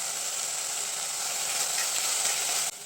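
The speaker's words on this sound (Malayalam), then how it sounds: "വെളുത്തുള്ളി, പച്ചമുളക്, കറിവേപ്പില നല്ലപോലെ വഴറ്റിയെടുക്കണം." Garlic, green chillies and curry leaves sautéing in a pan for Kerala fish curry give off a steady, even sizzle and hiss that runs throughout, close and fairly faint, with a slight drop at the very end.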